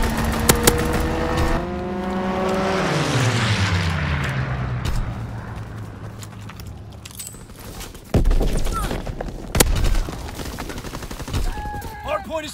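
Aircraft strafing run in a ranked multiplayer shooter video game, a loud engine roar that sweeps downward in pitch as it passes, followed by scattered bursts of gunfire and impacts.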